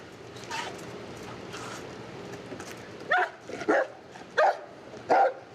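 A police dog barks during a roadside car search, four loud sharp barks in quick succession after a stretch of low background noise.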